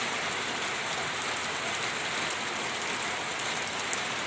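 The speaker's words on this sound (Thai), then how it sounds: "นี่ค่ะฝนนะคะ" Steady rain falls in a dense, even hiss of drops on surfaces nearby. It stays unbroken and fairly loud throughout, with no voices.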